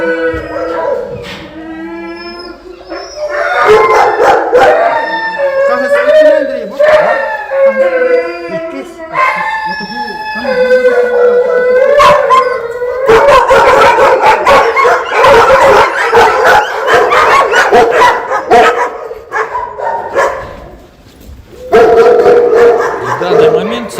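Several dogs at a temporary dog shelter in Yakutsk howl, whimper and bark loudly and continuously nearby, with long rising and falling howls overlapping sharp yips and barks throughout.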